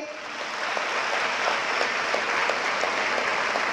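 Steady applause from a large audience at a student career guidance motivational speech in Selu, dense continuous clapping with faint regular rhythmic claps running through it.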